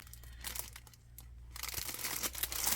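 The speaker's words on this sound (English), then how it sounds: "So I have everything unwrapped. Let's get rid of that noisy paper." Wrapping paper crinkles and crunches as a six-ring planner is unwrapped, with bursts of rustling at the start and a denser, louder stretch of crackling in the second half.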